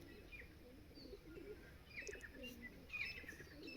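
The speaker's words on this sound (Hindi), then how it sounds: "देखो कितने कबूतरों को एकदम से आवाज़ आने लग गई" Pigeons coo and chirp softly around a penthouse in the morning, giving faint, scattered calls over quiet background hum.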